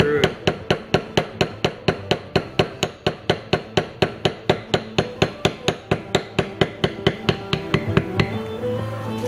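A mallet striking a metal beveler to tool the stem of a Sheridan-style leaf into leather, a fast, even run of sharp close taps, about three or four per second, continuing for several seconds before stopping.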